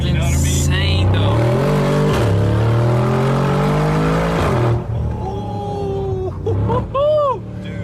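A wrecked 2022 Mercedes G63 G Wagon engine gives a loud, throaty rev that rises and holds for several seconds before dropping off, followed by quieter rising whines and engine noise.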